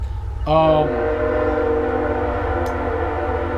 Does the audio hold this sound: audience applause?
no